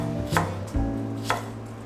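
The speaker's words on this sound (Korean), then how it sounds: "양파랑 파는 얇게 써는 게 좋아요" A knife thinly slices green onions on a cutting board, three distinct close chops spaced about half a second apart, crisp and loud against a quiet kitchen hum.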